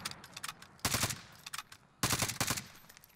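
Automatic weapon fire in the Warzone battle royale game comes in two close, loud bursts of rapid shots, separated by shorter scattered pops, with no talking over it.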